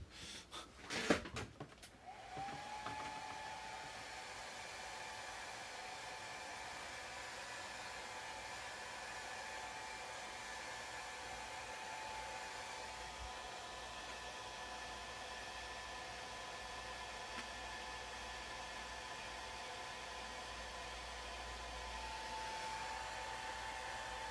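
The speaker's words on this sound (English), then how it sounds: "I'm going to hit this with the hairdryer again to dry out this Nuln oil" A hair dryer blows in a steady, continuous whoosh with a faint whine, running close by for the whole stretch after a brief clatter at the start, drying paint wash on a miniature model.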